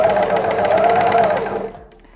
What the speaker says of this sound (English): The first one is how to sew around a corner with the serger.